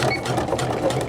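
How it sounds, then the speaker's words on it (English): A sewing machine stitches in the ditch along an existing seam, securing elastic at the side seam of a pair of pants, with a fast, even mechanical chatter running throughout, close and steady. "I'm doing what's called stitching in the ditch, right on an existing seam"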